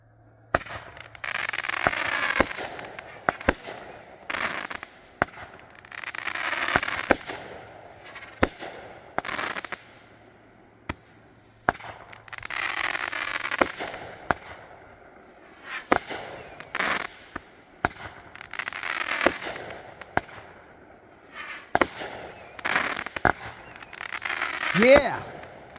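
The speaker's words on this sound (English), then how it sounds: "Awake at Dawn by Raccoon Fireworks" A 200-gram Awake at Dawn fireworks cake from Raccoon Fireworks fires a series of loud launch thumps and crackling bursts with whistling tails, arriving in repeated waves with brief pauses, while voices speak between shots.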